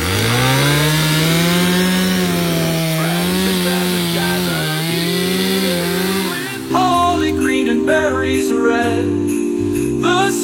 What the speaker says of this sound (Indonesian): Setelah itu dia akan menebang pohonnya dengan gergaji listrik.